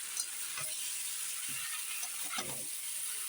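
Cauliflower curry sautéing in a pan, a steady close sizzle with a few brief stirring scrapes breaking through, no talking.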